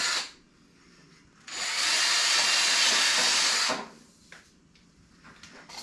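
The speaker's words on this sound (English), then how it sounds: "drill holes through the top of this PVC all the way to the bottom in different spots" A power drill bores a hole through PVC pipe, one loud sustained whining run of about two seconds, preceded and followed by quieter handling noises close by.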